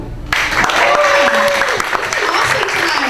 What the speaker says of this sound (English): Let's give a round of applause to Bill.